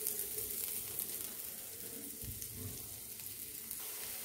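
Ginger and asafoetida fry in hot oil, a soft, steady sizzle and crackle that stays faint and continuous throughout.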